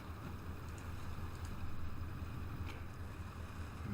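Fishing boat engine throttling up in World Ship Simulator, a steady low rumbling drone with wind and water wash, holding fairly level and swelling slightly midway.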